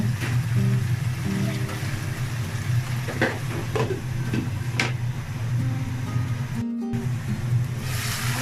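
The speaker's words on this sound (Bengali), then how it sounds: "আর কিছুক্ষণ মাছগুলো কষিয়ে নিব" Pieces of tuna fish for a curry fry in a covered pan with a steady, close hiss, broken by a few faint clicks and taps and one brief dropout near the end.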